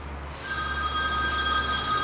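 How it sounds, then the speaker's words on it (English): A phone rings with a steady electronic tone, moderately loud and continuous over low background hum, in a soap store front under construction. "there goes my phone"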